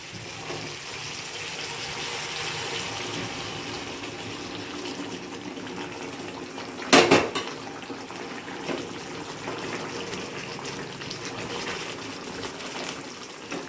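Water pours into a cooking pot of meat and new potatoes, a steady close gush with one sharp splash partway through, over low kitchen background noise.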